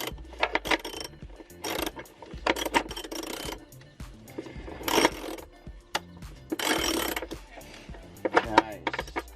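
Ratchet tightening clutch bolts on a BMW E46 330i, with repeated loud bursts of rapid clicking broken by short pauses and metallic clanks, close by.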